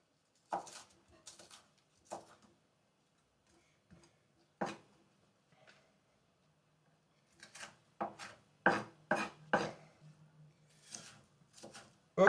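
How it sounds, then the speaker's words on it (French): A knife chops onions finely on a board in a home kitchen for a moussaka, quick irregular taps in short clusters, close and fairly quiet, with pauses between bursts. "Ok, j'ai coupé mes oignons. J'ai essayé de le faire assez finement."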